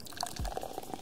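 Pop soda poured into a glass in a radio ad within the Cities: Skylines city-building game, a short one-second fizzy pour and splash with bubbly crackle, heard alone without talk.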